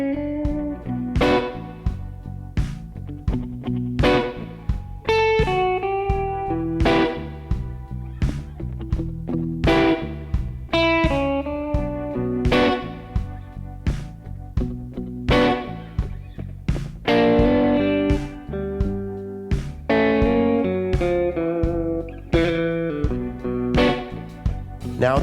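Electric guitar plays a steady strummed blues chord progression with a slightly distorted tone, rhythmic chord hits continuing for the whole stretch without talk.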